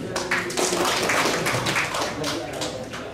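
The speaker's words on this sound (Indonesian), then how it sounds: "Tepuk tangan dulu." Attendees at a government sanitation monitoring meeting give a brief round of clapping, a patter of quick hand strikes running under a speaking voice.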